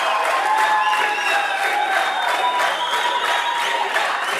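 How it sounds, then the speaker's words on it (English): Spectators cheer and applaud at a 10m air rifle men's shooting world cup final in Bhopal, India: a loud, continuous mix of clapping and crowd voices with faint whistles and shouts running through. "Spectators are cheering and celebrating"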